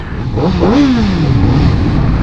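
A Voom 500SR motorcycle engine revs up sharply and then winds back down in a single close, loud throttle blip, with steady engine drone underneath.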